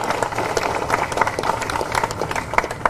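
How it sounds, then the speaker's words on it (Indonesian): An audience at a political gathering applauds the media and journalists, a dense steady patter of many hands clapping, fairly close and sustained throughout. "Sekali lagi tepuk tangan untuk media dan teman-teman wartawan."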